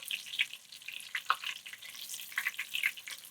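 Wild duck pieces fry in a pan as they are flipped, a quiet crackling sizzle with scattered sharp pops and spits over a few seconds, no voices.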